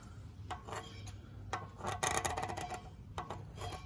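Scraping and rubbing at carbon deposits on top of a piston in a seized Yamaha MZ360 generator engine, with repeated short rasping strokes at close range over a low hum.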